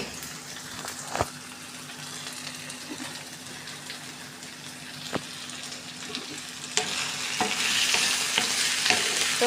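Potato and chicken curry being stirred in a pan, a steady close simmering sizzle with occasional sharp clacks of the spoon against the pan, growing a little louder and hissier toward the end.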